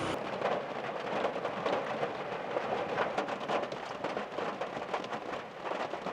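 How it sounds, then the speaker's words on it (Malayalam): Steady heavy rain drums continuously on a car close by, heard from inside, a dense unbroken hiss with no voices. "മഴ പെയ്തുകൊണ്ടിരിക്കുകയാണ് പുറത്ത്"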